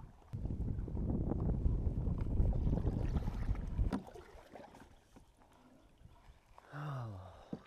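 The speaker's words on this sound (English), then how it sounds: "the wind's really picking up" Gusting wind buffets the microphone on a kayak out on Lake Whitney during a bass fishing tournament, a loud continuous rumble for about four seconds that then drops to a quieter breeze.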